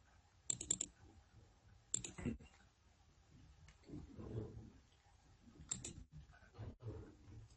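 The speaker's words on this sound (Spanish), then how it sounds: "Si yo quiero ver esas 4 operaciones, hago doble clic acá." A computer mouse gives sharp, quick double-clicks, several crisp pairs spread through the stretch, close and clear, while a voice talks quietly in between.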